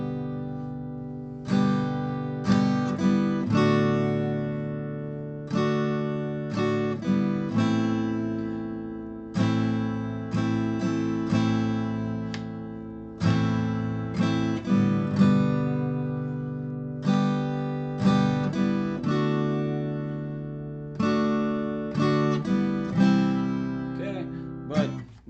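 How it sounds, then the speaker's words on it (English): Acoustic guitar strumming chords, with fingers lifted so the open strings ring at each chord switch; steady repeated strummed patterns with decaying sustain, played alone without talking. "you take your fingers off the strings and play the open strings"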